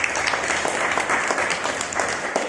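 Children at a summer training camp clap together in a short, loud, close round of applause, quick uneven hand claps running throughout.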